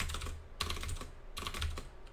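Two short bursts of rapid keystrokes on a computer keyboard while code is typed, separated by a quieter gap, the clicks crisp and near with no talking.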